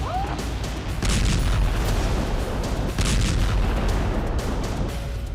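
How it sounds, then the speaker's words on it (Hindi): Explosions in Odesa, Ukraine during wartime, a dense noisy barrage of booms and blasts with two heavier bursts, heard continuously for several seconds with no voices. "इधर यूक्रेन के ओडेसा में धमाके हो रहे थे"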